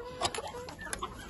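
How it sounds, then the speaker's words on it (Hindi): Aseel and desi chickens clucking on a farm, several short close clucks in an uneven burst with light background noise. "ये देसी मुर्गा आ गया"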